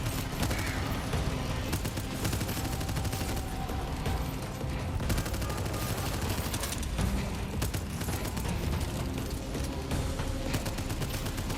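Nonstop heavy gunfire fills a fast-paced bout of the video game Abyssus: dense, rapid automatic bursts and blasts stacked together at a constant loud level, with no pauses throughout.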